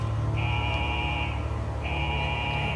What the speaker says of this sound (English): This is a level 4 alarm.